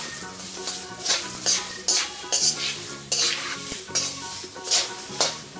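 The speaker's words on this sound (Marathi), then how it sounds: "आणि या डाळ्याही थोड्याशा तळायच्या आहेत." Roasted chana dal frying in hot oil for thin poha chivda, with a spoon stirring and scraping the pan in quick, uneven strokes over a soft, constant sizzle.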